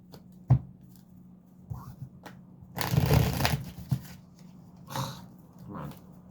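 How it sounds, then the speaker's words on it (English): Tarot cards are shuffled by hand in a quiet room. A few soft taps and rustles come first, then a dense riffling burst of about a second, followed by scattered card handling. "One more shuffle."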